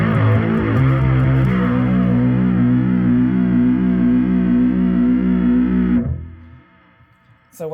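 Bass guitar run through a distortion pedal with the gain maxed out, playing a dense, loud, saturated riff for about six seconds, then cutting off into a decaying ring and near silence.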